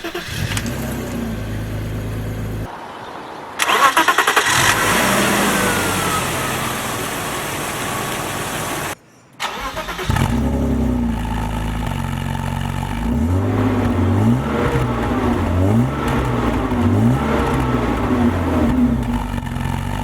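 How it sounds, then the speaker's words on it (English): A 1992 BMW 520i engine cranks and catches after a pause, then idles and revs repeatedly in rising and falling surges, loud and close. "Let me start the car and quickly show you the engine bay, followed by some exhaust sound."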